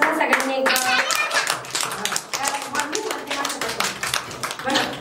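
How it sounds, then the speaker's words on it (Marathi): Everyone in a village gathering claps together, a brisk, close rhythmic patter of many hands keeping time, with a song and some talking running underneath the steady clapping. "टाळ्या वाजवा सगळ्यांनी."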